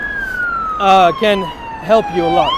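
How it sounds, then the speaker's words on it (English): A wailing siren sweeps steadily in the background, loud and continuous, while someone speaks briefly over it. "Sorry, that was a siren."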